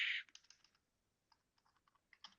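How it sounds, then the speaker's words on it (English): Quiet keyboard typing in short bursts of clicky keystrokes, faint and close, with a louder flurry at the start and end. "sorry for my typing."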